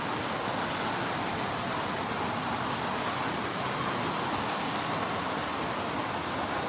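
Steady, dense hiss of monsoon rain pouring down in the Arizona desert, with wind, a constant close wash of sound that never lets up and carries no voices.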